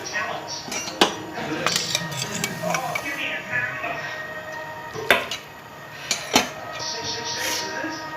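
Cooked mixed vegetable karahi is served out of a pan with clinks and scrapes of a metal spoon against cookware, several sharp knocks standing out over soft kitchen background noise.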